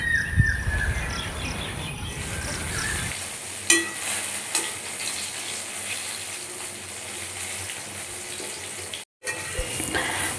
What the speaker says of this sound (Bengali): তারপর উল্টো দিকটা করে ভাজতে হবে